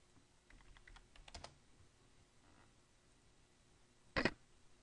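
Quiet typing on a computer keyboard while entering a poker bet amount, a short scattered run of soft key clicks followed by one sharper tap, close up with no talking.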